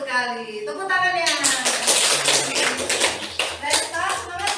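A voice speaks briefly, then a classroom group breaks into lively clapping. The clapping is close and fairly loud and continues for several seconds.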